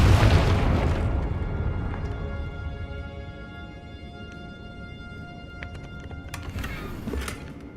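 Confringo spell explosion in Hogwarts Legacy, one loud booming blast at the start that decays into a long rumbling tail, with faint ringing tones and a few small pops afterward.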